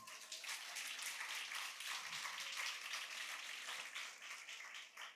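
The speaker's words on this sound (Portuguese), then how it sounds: "Dê uma salva de palmas ao Senhor." Steady applause from a church congregation during an Easter Sunday service, continuous and moderately loud, a dense patter of clapping hands with no voices standing out.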